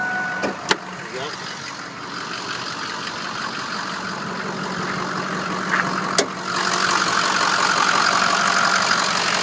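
A 2006 Ford F350 4x4 diesel FX4 idles steadily with the hood open, a continuous low rumble and clatter holding even throughout, with a couple of sharp clicks early and later.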